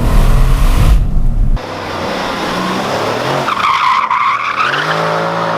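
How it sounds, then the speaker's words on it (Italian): A Mercedes C63S AMG drifting: loud tyre skid and squeal with engine roar, cutting sharply after a second and a half, then continuing as a steadier screech and engine note. "riuscire a fare anche sbandate più spettacolari"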